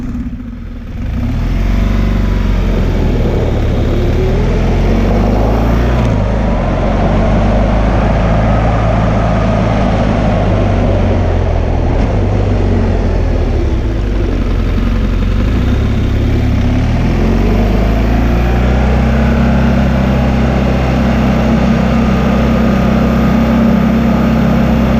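A motorcycle engine revs up under throttle and then drops off sharply under hard emergency braking, the loud engine note rising and falling steadily with no talk.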